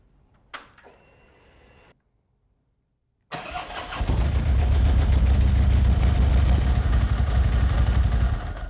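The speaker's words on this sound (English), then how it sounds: "we're going to go ahead and start the bike up and make sure we're good to go" A motorcycle engine starts up after a battery installation: a brief click and short cranking, a pause, then the engine catches and settles into a loud, steady, close idle running alone.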